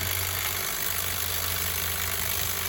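Electric hair clippers used to trim food, a steady droning motor hum with buzzing vibration, continuous and close without talk.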